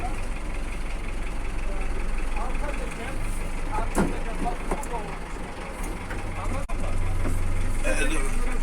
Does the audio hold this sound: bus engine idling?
yes